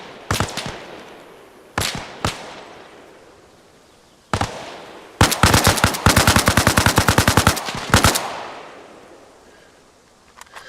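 Video game gunfire: a few single loud shots, then a long rapid automatic burst of close, sharp reports that stops abruptly.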